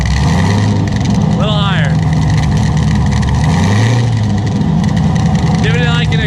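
An 841 hp Corvette engine idles and revs in a steady, loud low rumble that swells around the midpoint, with people talking and two brief high squawking calls over it.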